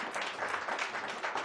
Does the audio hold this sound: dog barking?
no